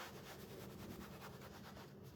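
Hands rub denim shorts firmly against a stencil board, giving a steady, soft close-up scrubbing and brushing noise with faint rhythmic strokes, low in level and continuous.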